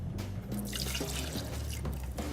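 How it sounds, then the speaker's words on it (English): Liquor for a hot toddy is poured into a metal cocktail tin as a steady, splashy trickle that runs unbroken for a couple of seconds, close and fairly soft. "we're gonna add in our booze"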